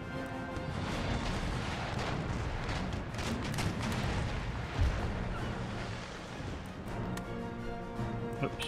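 Ship cannons fire a broadside in Empire Total War naval combat as a dense, continuous rumble of booming shots and crashes that rolls on for several seconds with no talk.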